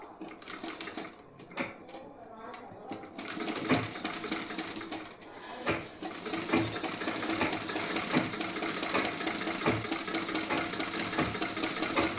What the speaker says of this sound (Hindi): अब इसमें आपको सबसे पहले यहाँ की स्टिचिंग करनी है इस तरीके से।